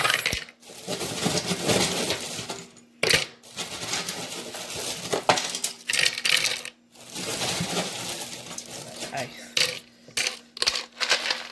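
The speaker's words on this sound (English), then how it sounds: "Then you're going to put the ice in, right? Add the ice." Ice cubes dropped into a clear plastic cup for an iced caramel macchiato, rattling and clinking in repeated loud bursts with short pauses between them, close up, while a person talks at times.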